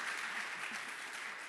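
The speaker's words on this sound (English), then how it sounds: "we can still clap" Steady applause from a conference audience at an opening ceremony, a dense continuous wash of many hands clapping at moderate distance, filling the whole moment without a break.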